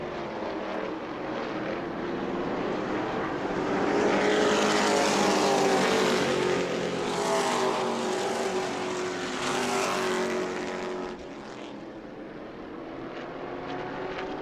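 Race cars roar down the back straightaway at New Smyrna Speedway during a weekly racing event, a loud continuous engine drone that swells and fades as the pack passes, with no voices.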